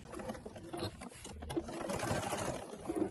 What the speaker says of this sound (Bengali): একখানে মিলিয়ে নিয়ে আমি প্রথমে পিন করে নিচ্ছি, তারপর সেলাই দিচ্ছি।